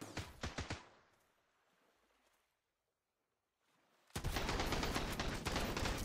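M4 rifle fire in the survival game Sunkenland: a burst of sharp shots opens, then quiet, before dense, loud continuous automatic fire erupts and rattles on to the end.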